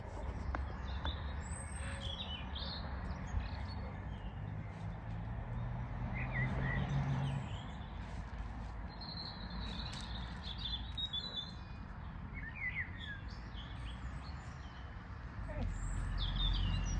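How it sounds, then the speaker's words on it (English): Small birds chirp and twitter faintly in a vegetable garden, with scattered short calls over a steady outdoor hiss and rustle throughout. "Listen to the birds, lovely."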